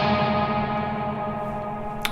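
A Dunwich Amplification Temporal Rift guitar pedal sounds a dense, sustained guitar chord washed in echo and reverb. The chord holds steady and loud, with a brief sharp click near the end.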